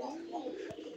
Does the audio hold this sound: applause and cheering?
no